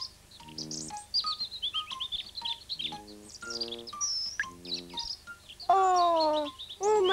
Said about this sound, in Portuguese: E tem passarinhos!